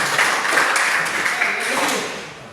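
Applause from a classroom audience at a school presentation on Manggarai local food, a dense even wash of many hands clapping close by for a couple of seconds, with no talk over it.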